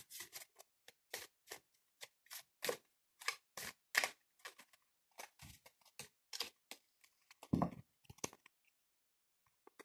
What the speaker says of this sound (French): Je vais en tirer 7 des cartes.